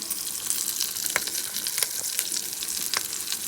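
Curry leaves crackle and sizzle in hot tempering oil for mango pulihora, a steady bright frying hiss with scattered sharp pops, close and continuous, with no talking.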